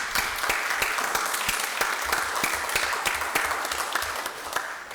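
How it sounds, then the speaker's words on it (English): A round of applause from people at a county commission meeting, dense and even clapping held at a steady level throughout, with no speech over it. "So I want to give her a round of applause."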